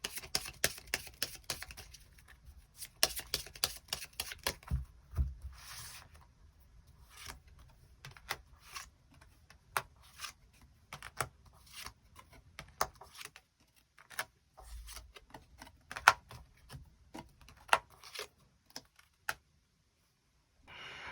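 Soft, close clicks and slaps of tarot cards being shuffled and drawn, scattered irregularly over a quiet background with occasional dull low bumps and no talking.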